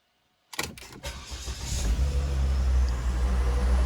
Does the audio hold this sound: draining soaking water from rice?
no